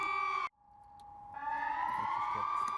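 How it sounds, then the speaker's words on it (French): A civil protection warning siren under test sounds as a loud, sustained wailing tone that cuts out briefly, then returns and swells in pitch and strength, heard alone with no talk. "Il est l'heure pour l'équipe qui teste les différentes sirènes de se mettre en marche."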